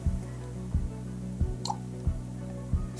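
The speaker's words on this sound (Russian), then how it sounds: "Бульканье." A MIUI 10 nature-sound calendar notification: soft water-like bloops repeat at a steady, even pace, a gentle gurgling tone with a faint drip partway through.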